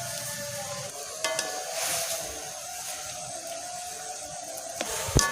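Papaya leaves fry in a hot pan with a soft, continuous sizzle, faint and fairly close, broken by a few light clinks and stirring sounds.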